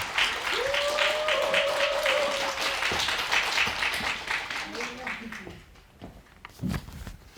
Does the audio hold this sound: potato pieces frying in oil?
no